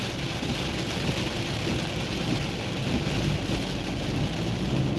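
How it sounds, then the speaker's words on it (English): Heavy rain heard from inside a car driving at night, a dense, steady wash of drumming and hiss on the vehicle that stays loud and unbroken throughout, with no voices. "But it's starting to rain harder."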